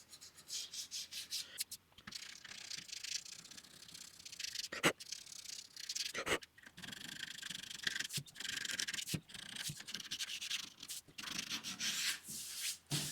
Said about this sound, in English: with just a little piece of sandpaper, just to get that edge rounded off